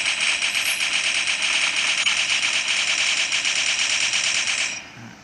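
Rapid automatic gunfire in the shooting video game Crisis Action, a loud continuous burst of fast rattling shots lasting several seconds before cutting off, with no talking.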